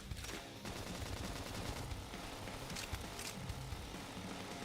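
Dense, sustained bursts of rapid gunfire in Xenoblade Chronicles X Definitive Edition rattle continuously with heavy low rumble, like a frantic firefight, loud and unbroken throughout.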